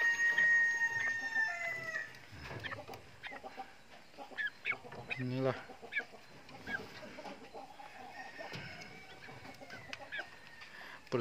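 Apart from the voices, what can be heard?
village chickens clucking on a poultry farm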